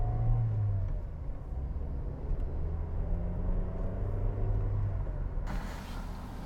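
A car revs its engine and accelerates away from traffic lights, the engine note rising steadily with a continuous rumble and no talking.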